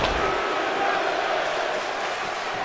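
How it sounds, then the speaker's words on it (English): Crowd cheering in the WWE 2K25 wrestling video game arena swells as a continuous, loud wash of voices and shouts with no break. "And listen to the crowd."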